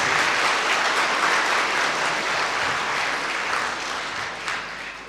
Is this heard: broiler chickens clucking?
no